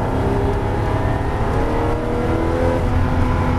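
A Porsche GT3 accelerates on a race circuit with a loud, steady, rising engine roar heard from close by, dense and continuous throughout, with no talking.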